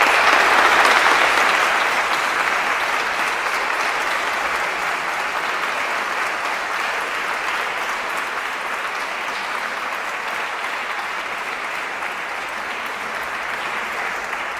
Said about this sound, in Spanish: todos les damos un fuerte aplauso